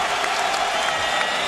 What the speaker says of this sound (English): The San Diego crowd liking what they see from their hometown fan, Dominick Cruz